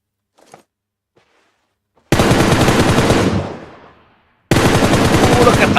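Loud, close bursts of automatic gunfire from the PUBG Mobile battle royale game roar in two long volleys, the first trailing off into a fading echo before the second erupts abruptly.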